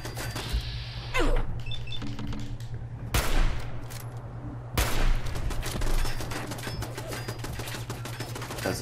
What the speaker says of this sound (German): Oh, guck mal da oben, das Geschütz.